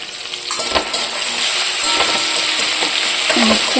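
Whole spices bought in Puri fry in a pan as tempering for egg curry, a loud, close sizzle that builds and holds, with repeated stirring clatters of a spoon against the metal.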